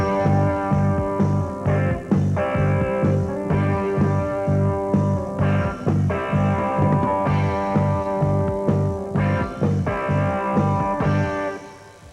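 A heavy metal band pounds out simple, heavy chords four to the bar, with bass and drums hitting every beat together in a loud, regular pulse throughout, fading slightly at the close.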